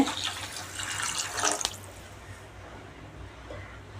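Water pours steadily into a pot of rasam close by, splashing for a couple of seconds before tapering off into quieter trickling.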